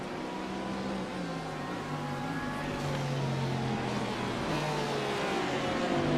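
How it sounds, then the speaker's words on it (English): Corvette and Porsche GTE race cars battling at Daytona road course in the iRacing sim, a steady loud engine drone with shifting pitch as several cars run close together, continuous throughout. "The Corvettes and Porsches battling it out."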